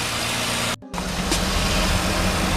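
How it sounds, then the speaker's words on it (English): A Mazda RX7 Type RS engine runs steadily during a rev test, a loud, close mechanical drone that drops out for a brief instant before resuming. "then I can start doing a little bit of a rev test"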